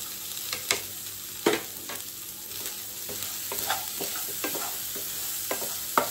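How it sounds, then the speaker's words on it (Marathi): Sorghum (jowar) stir-fried in a pan with spicy chutney, a steady sizzle broken by repeated sharp spatula scrapes and knocks against the pan, close and moderately loud. "आणि आता फायनली आपण आपली ज्वारी टाकून घेऊयात."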